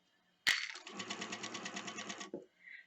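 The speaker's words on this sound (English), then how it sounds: "And as I sew along here, you can see that I'm going pretty fast." A sewing machine stitches a double rolled hem on a circle skirt, running fast in one steady, rapid rhythmic burst of close, loud stitching that starts abruptly and stops cleanly.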